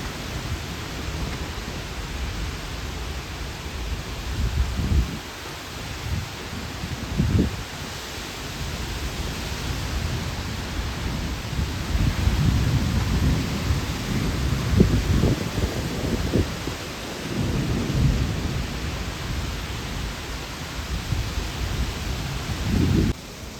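Strong wind and rain storm that flattens banana plants and blows soil about, a steady roaring rush of wind and rain with low thunder rumbles swelling and fading throughout, no voices.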